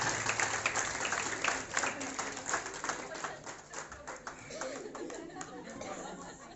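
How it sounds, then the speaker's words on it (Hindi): Faint applause greets a guest at a Mahashivratri function, scattered clapping mixed with chatter and a murmuring crowd, soft and somewhat distant throughout. "जोरदार तालियों से आपका स्वागत करते हैं।"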